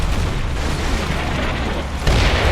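Video game artillery strike: a continuous heavy rumbling roar of explosions fills the whole stretch, loud and dense, with a fresh, louder blast surge near the end.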